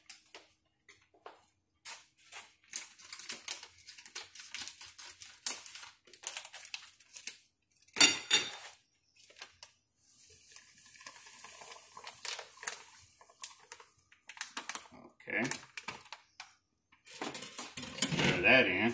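Dry malt poured and stirred into a home brew pot, with metallic clinks and scrapes of utensils against the pot, intermittent and close, interspersed with quiet pauses and some talk.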